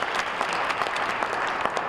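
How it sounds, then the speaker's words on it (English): A round of audience applause inside Edmonton city hall at a public address, brisk dense clapping holding steady for a couple of seconds. "give him one more round of applause"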